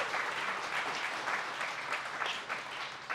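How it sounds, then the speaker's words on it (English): Sustained audience applause fills a convention designer panel for a game, steady and dense clapping from a crowd with no voices rising above it. "let's give them a round of applause"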